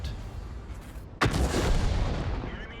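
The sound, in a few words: M44 artillery shot firing in video game World of Tanks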